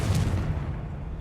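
A Confringo blasting spell goes off in Hogwarts Legacy, a deep, rumbling explosive boom with a heavy low-end swell that fades over about a second, loud and up close with no talk.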